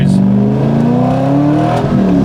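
Modified 2003 Chevrolet Corvette Z06 V8 accelerating hard on track, a loud, close engine note rising steadily in pitch with a brief dip near the end as the gear changes.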